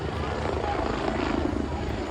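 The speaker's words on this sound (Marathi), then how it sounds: "हा बघा हेलिकॉप्टर पंढरपूरमध्ये." A helicopter flies over Pandharpur, its rotor throb a steady, moderately loud chopping drone that carries through the whole short stretch, with people's voices faintly mixed in.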